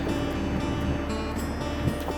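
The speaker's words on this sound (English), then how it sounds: "it is very windy up here" Strong wind roars steadily across the microphone on a cliff top above a canyon in the Rockies, a constant rushing blast with occasional gusty thumps.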